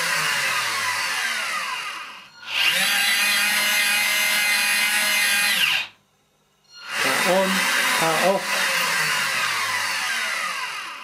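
A captive drum servoless winch runs in two long bursts of steady, loud mechanical whirring and grinding, stopping cleanly with a short silence between them, each run holding an even drone from start to stop.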